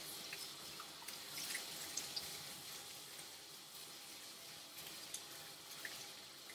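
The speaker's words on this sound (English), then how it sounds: "I'm gonna rinse." Running water rinses a standard poodle during grooming, a faint, steady tap-like splash continuing throughout with occasional small drips and no voices.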